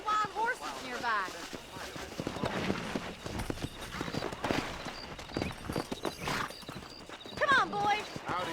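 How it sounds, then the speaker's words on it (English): Wild horses galloping in the Red Dead Redemption video game, with rapid hoof clip-clops and an occasional whinny. Characters talk over the hoofbeats, which stay fairly close under the talk. "there's a pack of wild horses nearby"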